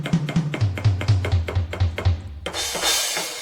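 Electronic drum sounds from a DAW, triggered by a Pyle tabletop drum pad, play as a steady run of about a dozen punchy hits with a low booming tone, then a sustained cymbal-like wash closes the pattern.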